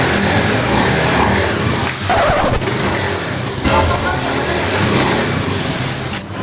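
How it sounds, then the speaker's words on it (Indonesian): A motorcycle engine runs steadily close by amid road traffic, a continuous broadband rumble with a brief surge near the middle. "Kayak suara motor laki gua itu ya."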